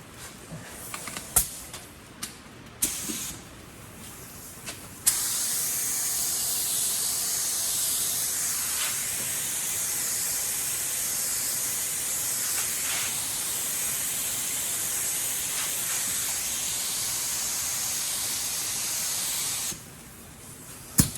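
A 3M Accuspray gun lays a coat of Awlcraft 2000 paint in one long, steady, close hiss lasting about fifteen seconds, with a few clicks and knocks before and after.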